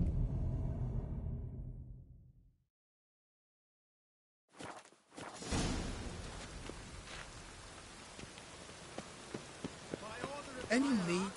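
Rain in The Witcher 3 falls as a steady broadband hiss of drops hitting surfaces, starting after a silent gap and continuing with scattered sharper ticks, fairly loud and close.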